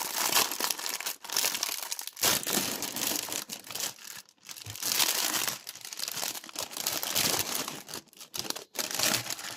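Plastic wrapping on a Pokémon magazine being torn and crumpled open, loud close crinkling and ripping in bursts with short pauses, no voices.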